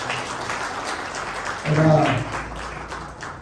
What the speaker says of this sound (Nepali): यहाँ भोलिन्टियर गर्नुहुनेलाई पनि सबैलाई हामी एकचोटि फेरि ताली बजाएर धन्यवाद